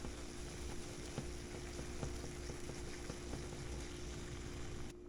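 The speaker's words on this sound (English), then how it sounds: "So now I'm going to bring this up to a boil, then down to a simmer until these guys are nice and plump again." A pot of broth with dried mushrooms soaking in it heats toward a boil, giving a steady close bubbling hiss with small pops and a constant low hum beneath, even and unbroken throughout.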